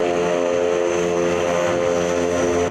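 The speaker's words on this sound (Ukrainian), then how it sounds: "Для евакуації умовно потерпілого в район приземлення вилетів морський вертоліт К-27." Ka-27 naval helicopter lifting off for an evacuation during a military exercise, a loud, steady roar of turbine and rotor with a continuous droning hum, close and unbroken, no voices.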